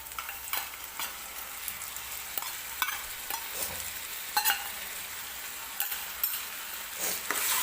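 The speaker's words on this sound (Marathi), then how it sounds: "आलं लसणाची पेस्ट टाकल्यानंतर सुद्धा आपल्याला ती व्यवस्थित भाजून घ्यायची आहे तेलामध्ये" Ginger garlic paste frying in oil with tomato for pav bhaji, a steady close sizzle with intermittent scraping and clinking of a spoon stirring the pan.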